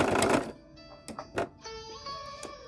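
A sewing machine stitching quilt binding near a corner: a burst of rattling stitches, then a few mechanical clicks and thunks as it stops, with a faint tonal whine underneath, close and moderately loud.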